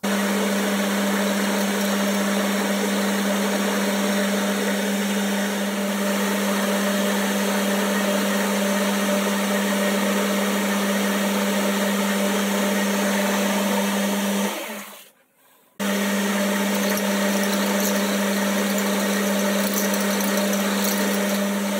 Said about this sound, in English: So what I need to do now is machine that until it's 3 millimeters deep